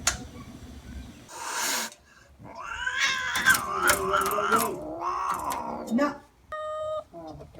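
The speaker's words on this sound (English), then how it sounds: "So we're having a little bit of cat disturbance." A cat meowing and caterwauling in drawn-out, wavering yowls across several seconds, close and loud, with a person speaking briefly in between.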